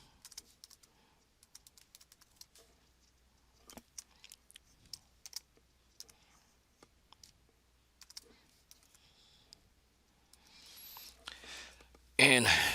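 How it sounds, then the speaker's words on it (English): Keys clicking in a quick, uneven patter on a computer keyboard as a file name is entered, each tap close and crisp, with brief pauses between bursts. "we'll type that in."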